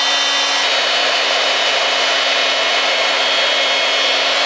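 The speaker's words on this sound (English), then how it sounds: "blow hot air onto this glue joint to see if we can loosen it up" A heat gun blasts hot air onto a glue joint of a mid-century dining chair during restoration, giving a loud, steady airy hiss with a faint constant whine, unbroken and without speech.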